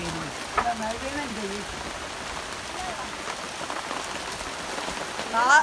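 Rain patters steadily on a surface outdoors in windy weather, a soft even wash of drops, while a voice briefly speaks and hums over it near the start and end.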